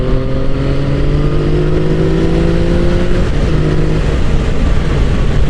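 A Yamaha XSR900 motorcycle accelerating hard through a fourth-to-fifth gear pull: a loud, steady engine drone with rising pitch, a brief dip at the shift and then a continued climb, mixed with heavy wind rush.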